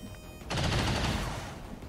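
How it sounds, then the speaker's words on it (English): A shotgun firing in XCOM 2, one heavy blast followed by a rolling, rattling burst that fades over about a second. "the shotgun's gonna shoot that guy"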